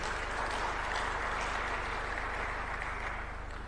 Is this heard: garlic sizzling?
no